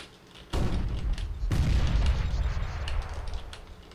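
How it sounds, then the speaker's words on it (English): Flashbang grenades going off in the video game CS:GO: two sharp booming bursts about a second apart, each followed by a sustained hissing ring that slowly fades, loud and close. "Throwing flashbang."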